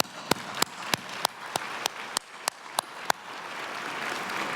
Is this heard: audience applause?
yes